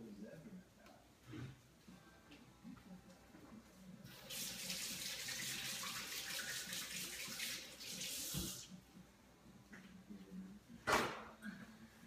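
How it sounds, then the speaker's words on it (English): Tap water runs steadily into a sink while hands are rinsed beneath it, a broad rushing hiss lasting about four seconds, with quieter handling knocks before and a sharp clack afterward. "So I'm just gonna wash my hands real quick."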